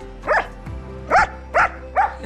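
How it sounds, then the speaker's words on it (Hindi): Dogs give four loud, close barks spaced irregularly over a couple of seconds, with a low hum in the background and no talk over them. "क्या सारे कुत्ते लग गए?"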